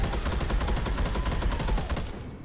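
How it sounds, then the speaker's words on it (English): Turret unleashing rapid sustained automatic fire at the player in Space Hulk Deathwing, a dense loud rattle of evenly spaced shots that trails off slightly at the end. "There's a turret shooting us"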